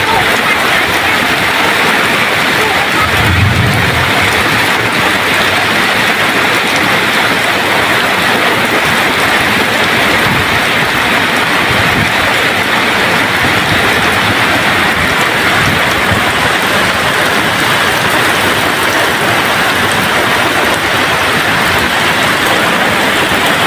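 Heavy rain pours down steadily and loudly, a dense continuous hiss with occasional low rumbles underneath.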